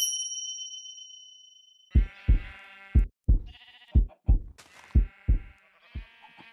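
Sheep in the Minecraft video game, with a player disguised as one, give a rapid series of about nine short, loud bleats over roughly four seconds, following a fading high chime at the start.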